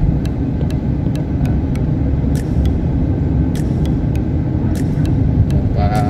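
A car drives along a road during a driving practice run, its engine and road noise forming a loud, continuous low rumble with faint ticking clicks scattered on top.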